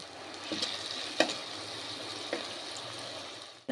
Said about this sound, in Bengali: এবার ভালো করে নেড়ে চেড়ে নেব। আবার কিছুক্ষণ মশলাটা কষতে দেব।